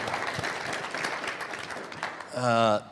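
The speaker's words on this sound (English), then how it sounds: "Let's give another round of applause for all the speakers" An audience claps for a panel of researchers, a dense patter of applause at moderate level, ending in a short burst of a sustained tonal sound, likely a voice, near the close.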